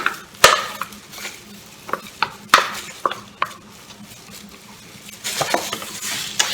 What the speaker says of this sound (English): We're going to start mixing our ingredients now